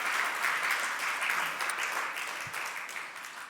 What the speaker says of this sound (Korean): 격려 박수 한번 하시겠습니다.